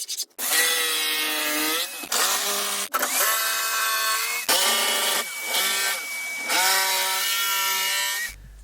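Power drill driving screws into a wooden garage post, several loud whirring bursts that rise in pitch as each screw runs in, separated by short pauses, close up with no talk.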